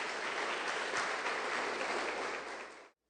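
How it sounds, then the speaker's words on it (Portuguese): Sustained, dense applause from a church congregation during a Sunday service, loud and steady for about three seconds before cutting off abruptly, with no talking over it. "E dê uma forte salva de palmas para o Senhor Jesus."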